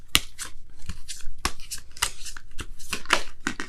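A deck of tarot cards is shuffled close up with repeated crisp riffles and slaps in an uneven rhythm, loud and alone.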